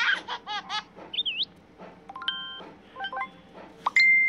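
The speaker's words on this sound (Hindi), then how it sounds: "तो ये हो गया मैसेंजर का डिफॉल्ट साउंड।" Facebook Messenger's default notification tones play back from a phone, a series of short synthetic chirps, warbles and bright beeps in quick bursts with brief pauses, fairly loud and close, no voices.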